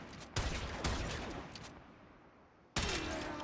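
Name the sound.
gunshots fired in a video game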